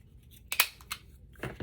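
A craft punch snaps through a folded paper circle for a scrapbook flower, giving a few sharp crisp clicks and crunches close up, with two main punch bursts separated by quieter handling.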